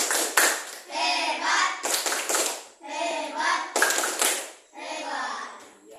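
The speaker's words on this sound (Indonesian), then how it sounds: "Kita kasih aplaus dulu untuk kelompok 1" Children in a classroom clap for a student group, loud bursts of clapping alternating with patches of kids' voices and chatter, fairly close and lively.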